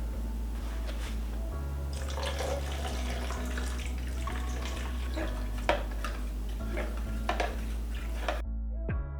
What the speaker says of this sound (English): This is just water.